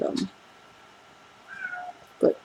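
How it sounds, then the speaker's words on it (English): A domestic cat meows twice, a short call at the start and another about two seconds later, close by and fairly loud, with a faint tone between them. "You in heat, kitty, or are you just meowing?"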